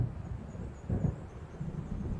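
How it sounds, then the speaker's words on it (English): A low rumble of thunder from an approaching storm out over the waves in the Alan Wake video game, rolling and swelling briefly before fading back into a dim, windy background, with no voices. "It seems there's a storm coming."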